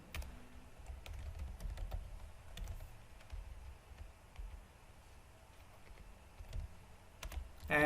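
Quiet, steady clicking of computer keyboard keys typed at a moderate pace, faint and close, over low room hum with no talking.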